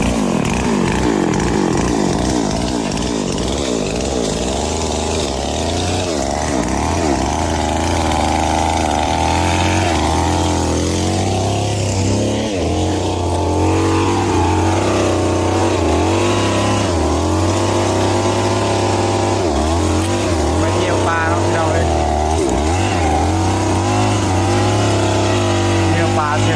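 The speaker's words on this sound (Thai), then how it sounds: "เมื่อแล้วพี่น้องลงมือตัดกันแล้วเนาะ" A motor-driven saw cuts wood to make a template for building a rice-field hut, with a loud, continuous engine whine that rises and dips as it revs through the cut for nearly half a minute, close and without pause.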